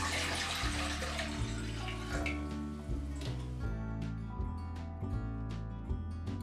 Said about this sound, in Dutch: Water doe ik alvast in de pan.